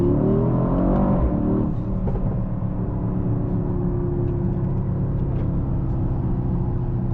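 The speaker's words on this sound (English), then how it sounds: "Also, you have this grunt from the engine." A 2025 Mercedes-AMG GLE 63 S Coupe V8 pulls hard, a loud, steady engine drone heard from inside that rises in pitch through the opening seconds and then holds a strong, sustained growl.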